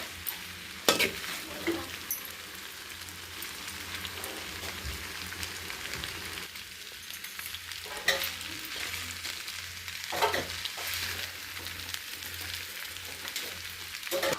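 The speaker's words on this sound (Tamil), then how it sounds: "நல்லா இந்த அளவுக்கு கிண்டி விட்டுக்கலாம்." Veg noodles being stirred in a hot pan, a steady sizzle of frying with scraping stir strokes and a few sharper clinks of the utensil, moderately close, no talking.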